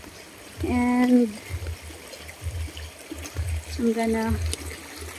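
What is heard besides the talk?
creek water flowing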